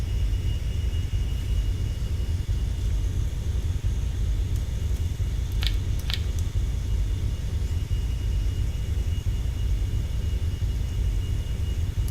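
A spacecraft engine thrusts up in the Orbiter 2017 space flight simulator game, a steady deep rumble with airy hiss that holds at constant loudness throughout, with two brief faint high clicks partway through and no talking.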